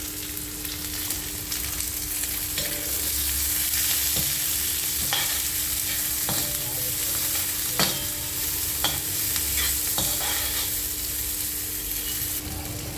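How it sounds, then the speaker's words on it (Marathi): A large onion frying with chillies in a pan makes a continuous loud sizzle, with occasional spoon taps and stirring scrapes over a faint steady hum; no talking. "मिरची चांगली शिजल्यानंतर आपल्याला त्यामध्ये एक मोठा कांदा टाकून घ्यायचा आहे. त्याला सुद्धा चांगलं फ्राय करून घ्यायचं आहे."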